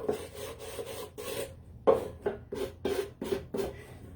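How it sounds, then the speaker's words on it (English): A new, rough sanding block rasps against a tin can in rhythmic back-and-forth strokes, about ten scraping passes at a steady pace, close up and with no talking. "I think this one I might sand a little bit."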